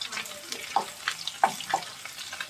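Chopped garlic frying in hot oil for a lote fish dish, a soft steady sizzle broken by a few short scraping stirs, fairly close.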